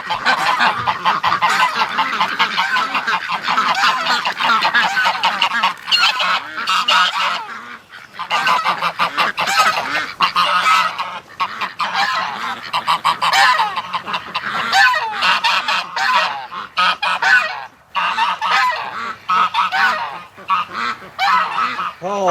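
Domestic ducks and geese honk and quack continuously and loudly as they are let out of their pen at close range, a dense overlapping chorus with no pauses.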